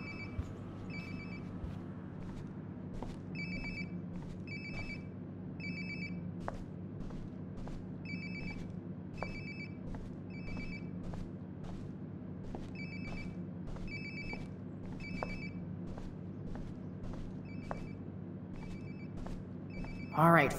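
In Life is Strange: Before the Storm, a nearby phone rings again and again, with bright, evenly spaced trilling bursts carrying clearly over a steady low background hum for about twenty seconds.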